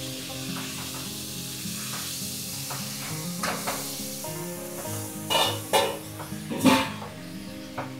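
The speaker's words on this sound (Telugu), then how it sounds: "కరివేపాకు వేసుకోవాలి. వేసుకొని బాగా కలపెట్టుకోవాలి." Curry leaves hit hot oil in a pot of Guntur chicken curry and are stirred in, giving a steady close sizzle with a few sharper scraping stir strokes near the end and no talk.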